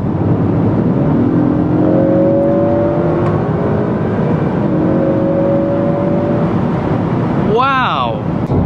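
A tuned 2021 Honda Accord 2.0T accelerating hard from inside the cabin: loud continuous engine and road roar with rising engine tones, while people talk over it.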